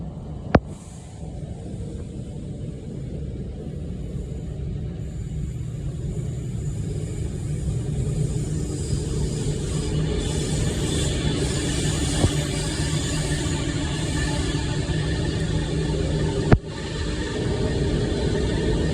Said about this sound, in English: It's going to be an Avanti West Coast service from London Euston to Manchester